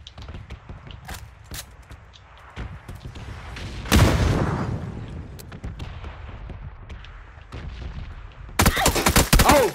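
Rapid bursts of gunfire from a PUBG match, sharp cracks scattered throughout with a heavy blast near the middle and a dense loud volley at the end, no talking.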